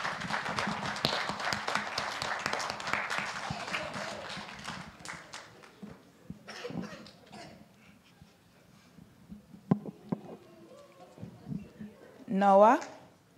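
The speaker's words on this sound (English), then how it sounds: "Please give them a round of applause as they come up" Audience applause at an induction service as inductees come up: a dense burst of clapping that fades into scattered claps and quieter room noise.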